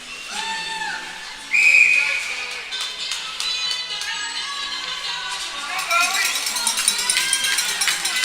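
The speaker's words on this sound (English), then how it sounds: "the whistle will go" A referee's whistle is blown during a U15 AAA ice hockey game: one short, sharp blast rising over rink noise and crowd murmur, with a commentator talking throughout.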